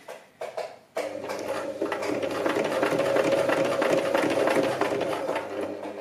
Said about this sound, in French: basculer le tissu pour que le fond de sac ne nous gêne pas et pour pouvoir coudre cette couture-là tranquillement en fait au point droit